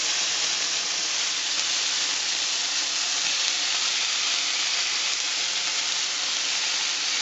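Rabbit pieces, including tenderloin, sear in a hot pan with a loud, continuous sizzle and hiss that stays steady throughout, close up and with no talking.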